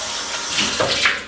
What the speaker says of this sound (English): you take your stock pot and you need to rinse it cold water